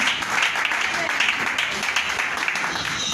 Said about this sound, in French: On acclame, on acclame, on acclame.